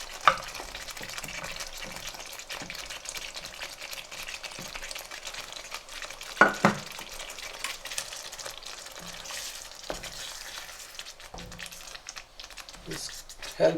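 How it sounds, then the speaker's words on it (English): Paneer cubes stirred and gently fried in masala in a pan over low to medium heat, a soft continuous sizzle with light scraping and a few sharper clicks, while someone talks over it. "So the heat setting at the moment is low to medium. So all the paneer going in now."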